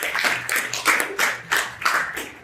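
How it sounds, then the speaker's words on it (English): A few people clap in loose, uneven bursts at a rites-of-passage graduation ceremony, the claps coming in distinct, separated clusters rather than a full sustained roar. "A round of applause for that."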